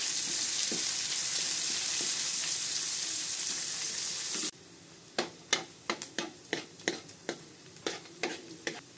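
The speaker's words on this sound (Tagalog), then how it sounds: "Pwede na po natin isunod ang sibuyas." Onions cooking in a pan for lugaw, a loud continuous sizzle that cuts off halfway, followed by a quieter series of about a dozen sharp spatula scrapes and taps against the pan.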